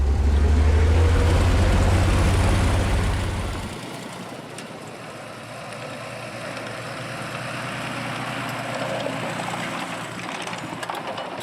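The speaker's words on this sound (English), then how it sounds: "the engine makes its own sounds, and the exhaust system, and the transmission sings unknown melodies" Soviet ZIS-5 truck from the 1930s–1940s driving, its engine, exhaust and transmission making a steady loud rumble and whine that drops to a lower, buzzing drone after a few seconds, with no talk.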